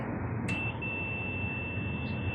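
A multimeter continuity tester's continuous high-pitched electronic buzz begins after a brief click and holds steadily over faint low background hum, while testing a Midea inverter air conditioner compressor for a short to ground.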